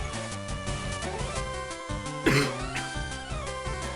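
A single short cough cuts through busy background music and Pokémon FireRed Omega game sounds, fairly close and brief.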